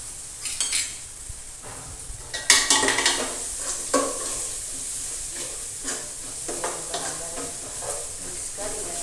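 A spoon scrapes and stirs red chilli and coriander-cumin powder through hot oil in a pan, with a steady sizzle beneath repeated metallic clinks and scrapes, close and fairly loud.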